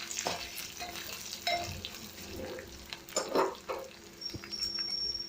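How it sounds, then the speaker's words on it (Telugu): Cumin, coriander seeds, chillies, garlic, curry leaves and a little tamarind fry in hot oil for a ginger pickle tempering: a soft, continuous crackle with a few stirring scrapes, fairly quiet. "అదే నూనెలో మనం జీలకర్ర, ధనియాలు, మిర్చి, వెల్లుల్లి, కరివేపాకు, అలాగే కొంచెం చింతపండు కూడా వేయించుకోవాలి."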